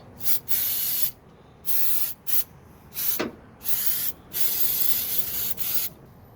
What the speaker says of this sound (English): they sell some sprays that kind of break some of that stuff up